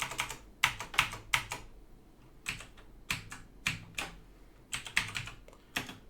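Keys on a computer keyboard clack in quick irregular clusters of sharp, close taps with short pauses, and no one talks.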